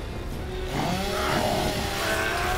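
A chainsaw bayonet revs in Gears of War, a loud, rough buzzing engine roar that swells and holds steady for a couple of seconds.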